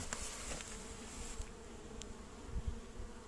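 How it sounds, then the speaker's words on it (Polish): Honeybees swarm around beehives with a dense, steady buzzing that stays close and continuous, with a few individual bees droning past nearby. "zdrowe pszczoły, silne pszczoły"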